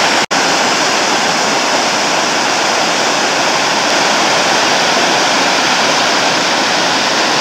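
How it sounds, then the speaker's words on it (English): Water rushing loudly down a stream at a deep swimming hole, a dense, steady roar close by that fills the whole stretch without a break, no voices. "A lot of water still coming down."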